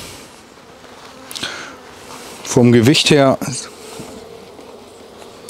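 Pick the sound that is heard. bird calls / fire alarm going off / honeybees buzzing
honeybees buzzing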